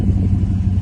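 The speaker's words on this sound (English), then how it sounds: "Now, I'm not gonna let the truck run real long, just a little while." A 1971 Chevrolet C10 pickup engine idles steadily up close, a loud continuous low rumble with no talk over it.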